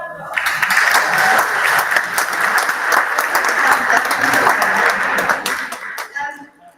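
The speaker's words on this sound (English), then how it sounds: "give a big round of applause" Loud round of audience applause at an annual forum event in London, a dense sustained burst of many hands clapping with a few chuckles and voices mixed in, fading out at the end.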